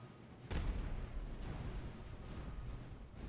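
Distant artillery fire in the Napoleonic-era strategy game Master of Command, faint muffled booms, one sharper and two softer, over a low rumbling battlefield background.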